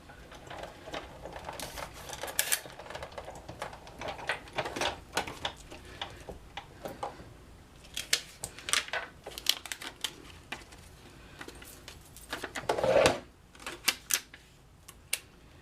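A Big Shot die-cutting machine feeds paper and a framelit die through its rollers, giving a steady low mechanical rumble with scattered clicks and crinkles and a louder crunching surge near the end, with no talking.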